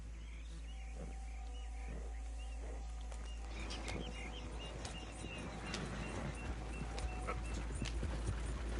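Horse hooves clip-clop steadily along in the video game Red Dead Redemption 2, fairly faint over a low background hum, with scattered game ambience growing busier toward the end.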